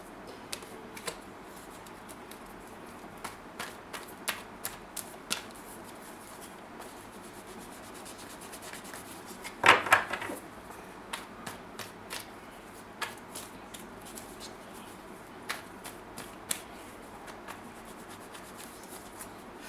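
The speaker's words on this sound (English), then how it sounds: "Let me shuffle again." Tarot cards are shuffled repeatedly, soft rubbing riffles punctuated by sharp clicks and taps, with one louder ruffling burst midway.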